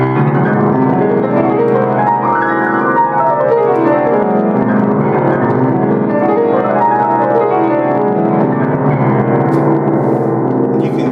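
A rapid whole-tone piano run held with the sustain pedal sweeps up and down in a blurred, sustained wash, notes ringing together loudly and continuously.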